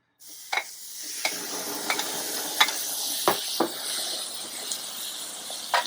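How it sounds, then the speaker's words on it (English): Chicken of the woods mushrooms sizzling in a hot pan with olive oil, a continuous hiss dotted with sharp pops and crackles, close and fairly loud. "this is quite hot, so it's going to sizzle here."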